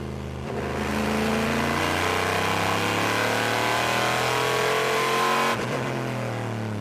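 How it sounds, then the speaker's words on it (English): Le Mans 24 Hours 2009 race car holding full throttle in top gear along a straight, a loud, steady high-pitched engine drone that sustains for several seconds before a brief dip and recovery near the end. "just listen to how long he's in top gear at full throttle when he goes down those straights"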